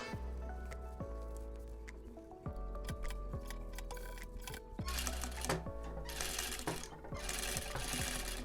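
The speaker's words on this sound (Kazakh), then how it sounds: "Осылай тігіп шығамыз." A sewing machine stitches a zipper onto a cosmetic bag, its motor humming steadily under a regular tick of the needle, with bursts of faster stitching near the end.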